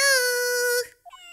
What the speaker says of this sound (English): Oh, what a lovely cat.